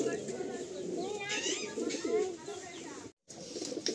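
Andhra pigeons cooing in a loft, soft repeated throaty coos and rustling birds close by, with a steady murmur of flock sounds throughout and a brief moment of near silence toward the end.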